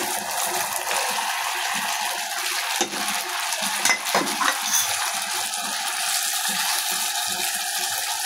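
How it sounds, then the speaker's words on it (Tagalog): Fried tofu sizzles in a pan with sweet and spicy sauce, a steady loud hiss of frying close up, punctuated by occasional scraping clinks of a utensil stirring, with no talking. "Ilagay na po natin yung ating fried tofu."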